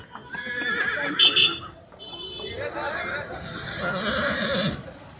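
A stallion neighs loudly at the Pushkar camel and horse fair, a long shrill whinny up close among crowd chatter, hoof clops and the bustle of the fairground, with people talking throughout.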